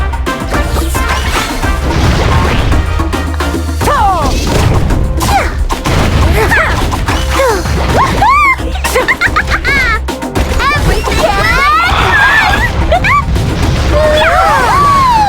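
Grenades go off in Oversmash, a fast online shooter. Loud crashing blasts repeat over a dense, continuous bed of game effects and music, with a voice talking over parts of it.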